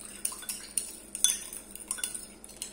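Cucumber salad seasoned with black pepper being tossed with a utensil in a bowl, giving light, irregular clinks and scrapes of metal on dish, fairly close and quiet, with no talk.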